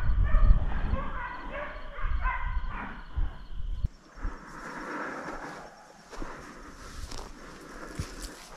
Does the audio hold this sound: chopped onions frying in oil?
no